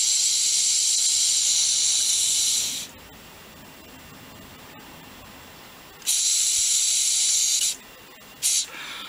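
Air blown by mouth through the fuel valve of a Yamaha YDS6 carburettor: loud breathy hissing bursts, one long blow, a pause, then a shorter blow and a brief final puff.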